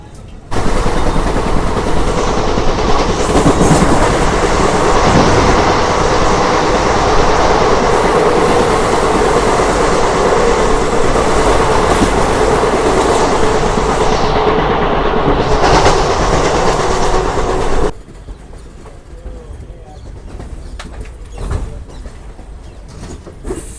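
An AC MEMU electric train of Eastern Railway roars past close by for nearly twenty seconds with a steady rumble and rhythmic wheel clatter, then cuts off abruptly, leaving quieter background noise.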